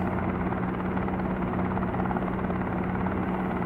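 A helicopter hovering in a flight simulator game drones steadily, a dense, loud, continuous rotor and engine roar with a constant low hum and no talk.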